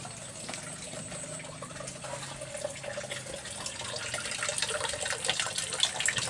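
Rice being washed under running water: a continuous splashing flow that grows a little louder and busier toward the end, close and fairly quiet, with no voices.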